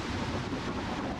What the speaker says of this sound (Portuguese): então veio uma tempestade de areia